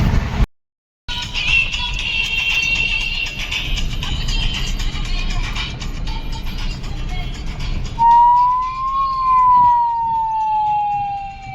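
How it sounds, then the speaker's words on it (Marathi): An ambulance siren wails, starting faint amid highway traffic rumble and then growing clear and loud as a rising, falling tone near the end. "पेशंट तपासायची गाडी आली हॉस्पिटलची"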